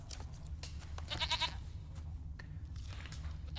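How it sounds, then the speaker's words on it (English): A goat bleats once in The Witcher 3, a short quavering call rising out of a busy, rumbling game soundscape with scattered clicks and thuds. "Look at this 2015 goat."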